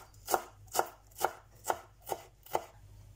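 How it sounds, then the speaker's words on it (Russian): Fresh dill is chopped with a knife on a cutting board, six steady, evenly paced cuts heard up close at a soft level, with no talking. "И нарежу немного свежего укропа."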